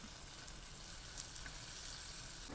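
Meat slices sizzle steadily in a hot cast iron pot while green peppers cook alongside, a close, continuous crackling fry with faint scattered pops and no talking.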